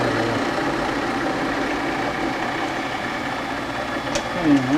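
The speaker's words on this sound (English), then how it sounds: "A difficult interrupted cut for a lightweight lathe" A lightweight lathe takes an interrupted cut in brass stock for a branding iron, giving a steady close whirring drone with a low rumbling chatter throughout.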